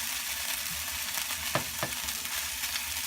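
Steady, dense sizzling of fish frying in a pan, close and continuous, with a couple of brief clinks or scrapes partway through.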